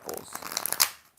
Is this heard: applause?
no